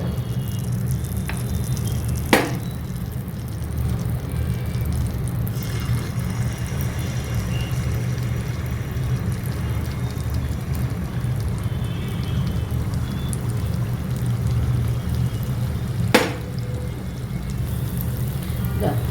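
Wheat neyyappam batter frying in hot coconut oil hisses in a steady, dense sizzle that runs unbroken throughout, close and fairly loud, with a couple of sharp clicks from utensils.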